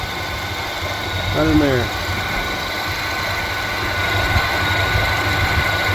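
A Mazda car engine idles with a steady low hum and mild vibration, and someone speaks briefly over it.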